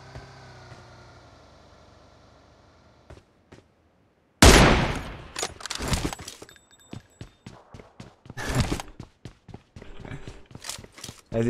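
Rapid gunfire bursts in the mobile battle game PUBG Mobile, loud and close, a string of sharp cracks after a quiet lead-in with faint background tones.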